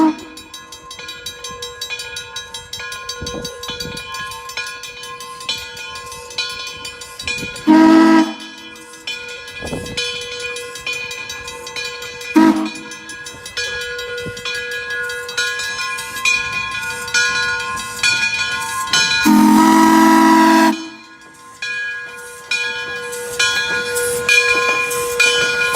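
Frisco 1630, a steam locomotive running an excursion trip in 2004, sounds its chime whistle. Two long, loud, multi-tone blasts come several seconds apart, with hissing steam and chuffing rail noise continuing between and around them.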